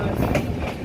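Local passenger train on the Patna route, running near-empty, rumbles steadily with a dense low drone and faint rail clatter throughout, loud and close as if heard from inside a carriage.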